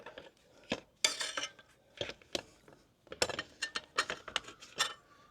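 A plastic belly pan on a Triumph Street Triple 765RS being fitted by hand, a series of close, sharp clacks, scrapes and knocks in irregular bursts with short silent gaps.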